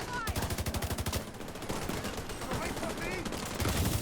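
An assault rifle fires in The Division 2, a rapid close burst of evenly spaced shots at the start, then continuous battle noise and more gunfire, with a voice speaking over it.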